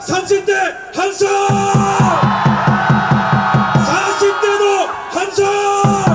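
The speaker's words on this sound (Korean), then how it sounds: "30대 함성!" A packed outdoor political rally crowd in Dongdaegu, Daegu, people in their thirties, lets out a loud sustained roar of shouting and cheering between brief calls, with repetitive rhythmic thumps running underneath.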